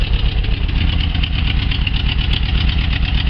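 A 1976 VW Camper's 2.0-litre fuel-injected engine idles steadily and close by, with an even, throbbing rumble and no voices over it.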